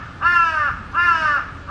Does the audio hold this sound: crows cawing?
yes